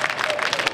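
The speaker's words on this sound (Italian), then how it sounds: "Applaudono per pietà," A brief burst of audience applause, dense steady clapping from a crowd at an Oktoberfest memorial event in Rome, under one second long.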